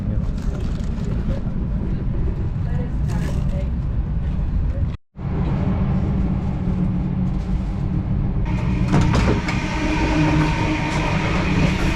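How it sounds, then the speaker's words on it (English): Inside a moving overnight express train to Sydney, Australia: a loud, steady rumble of wheels on track with rattling and rhythmic clacking, briefly cut off, while a voice talks over it. "The train is moving"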